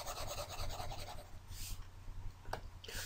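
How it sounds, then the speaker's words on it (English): An eraser rubs out pen writing during a chemistry lesson, giving a quick back-and-forth scratchy rasp that comes close and soft, then a few brief scrapes follow. "Let me just rub this out."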